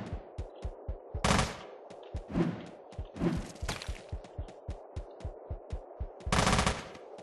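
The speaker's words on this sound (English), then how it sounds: "See, that's better shooting." Gunfire in the video game Teleglitch, a steady run of sharp, evenly spaced shots with two louder, denser bursts of firing in between, alone and with no talk.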